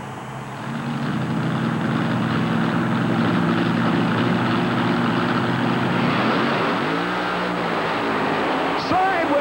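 A supercharged Chevrolet monster truck called Wild Thing roars loudly and steadily at a monster truck event, its engine drone running continuously under a commentator's voice before shifting near the end.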